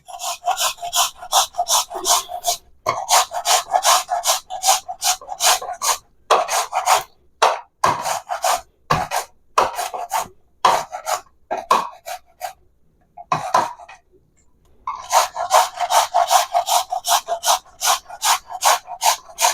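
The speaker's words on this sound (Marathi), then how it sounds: "आता मी किसून घेणार" Red pumpkin pieces rubbed against a grater in steady rasping strokes, fast rhythmic scraping bursts with brief pauses, close and loud, no voices.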